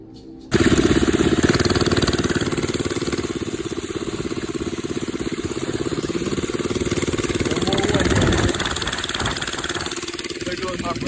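A 79cc engine on a cruiser bicycle runs steadily and loudly up close, a rapid buzzing drone throughout with a brief rise in revs near the end; engine noise dominates from start to finish.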